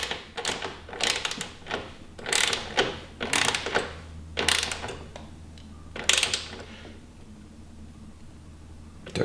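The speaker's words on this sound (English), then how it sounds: "So even though I'm using a torque wrench on this, I would just cinch them down until they're nice and tight" A torque wrench tightens grip nuts on a Corvette C7 radiator, giving repeated bursts of close ratcheting clicks separated by short pauses, with faint handling noise between them.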